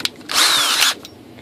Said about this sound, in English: Just going to throw it in the drill.